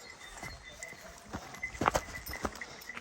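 A nervous mare moves about, giving several irregular hoof clops and shuffles on the ground nearby, moderately loud with some faint background noise.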